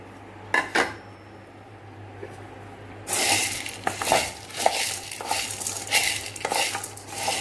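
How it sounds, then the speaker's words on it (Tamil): Dry ginger, black pepper and long pepper dry-roasting in a pan: a quiet start with a couple of clinks, then loud, busy scraping and rattling of spices stirred against the metal. "இப்போ சுக்கு, மிளகு, திப்பிலி, இந்த மூணையும் நல்லா வறுத்துட்டோம், வறுத்துக்கிட்டு இருக்கோம்."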